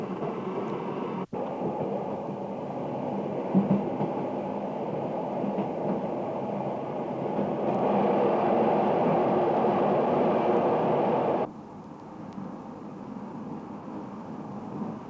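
Rheingold passenger train running on the rails through a large border marshalling yard in Germany near Basel, a steady loud rumbling rail roar with faint clacks, a sharp bang near the start and the level dropping near the end.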